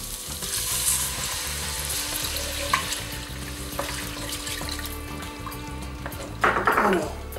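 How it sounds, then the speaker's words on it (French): Liquid hits a hot chicken-liver tajine with confit tomatoes, setting off a steady close sizzle and bubbling that swells into a louder burst near the end. "je vais maintenant ajouter mon liquide"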